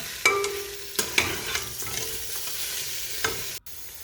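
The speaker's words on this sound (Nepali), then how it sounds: "यसलाई पनि मजाले भुटेर हल्का पानी हाल्दै यसलाई भुट्न सकिन्छ" Meat frying with ginger-garlic paste in a pan, a constant close sizzle punctuated by a handful of sharp spoon scrapes and taps as it is stirred.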